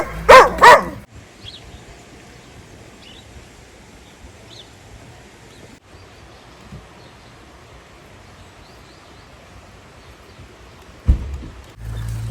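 A dog barks a few times close by at the start of a rural village outing in Zakarpattia. Then it goes quiet, with faint outdoor ambience, and a brief thump or bark near the end.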